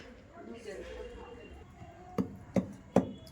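Tomato chutney pounded by hand in a stone mortar: three sharp, evenly spaced thuds near the end, following a stretch of low murmuring voice and background noise.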